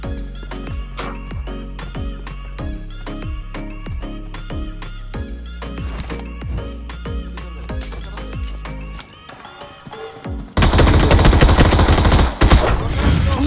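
Rapid bursts of automatic gunfire crack out in a PUBG Mobile match, shots following in quick, close rhythm before a sudden loud roaring blast takes over near the end.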